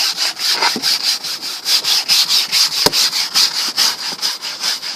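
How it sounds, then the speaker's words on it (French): Stiff brush scrubbed back and forth across a car dashboard, a steady run of rapid close-up rasping strokes with a brief sharp knock partway through and no talking. "Et là, pareil, je prends ma brosse"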